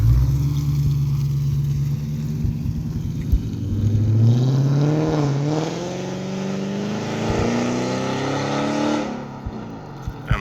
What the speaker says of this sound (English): Car sounds good. It's got an odd burble to it.